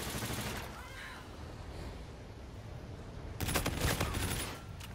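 Video game gunfire from Call of Duty: Infinite Warfare bursts in a rapid fusillade of loud shots late in the clip, over a constant rumbling battle backdrop.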